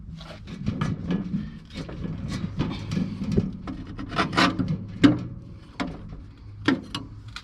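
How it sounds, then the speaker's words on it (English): A seized bolt on a ride-on mower blade is worked off with rough, irregular rasping and scraping strokes, close and moderately loud, in uneven bursts with brief pauses, no talking. "what you do is you just grind that piece off here"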